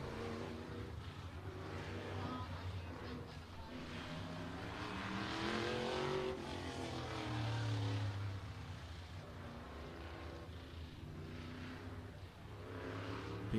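Race car at Showtime Speedway in Pinellas Park, Florida, running its warm-up lap before the green flag, a steady engine drone with rising and falling revs throughout, fairly distant under a broad crowd-like wash.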